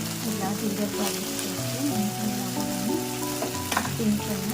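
Ginger garlic paste frying in ghee with cumin and curry leaves, a steady close sizzle and crackle under clinking and stirring, with tonal music or voices running over it.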